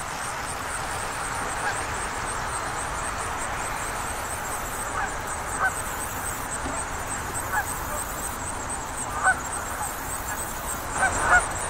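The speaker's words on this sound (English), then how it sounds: "got some Canadian geese out there" Canada geese honk repeatedly from a distance across open ground at a wildlife management area, sharp calls rising now and then over a steady wind-like outdoor hiss.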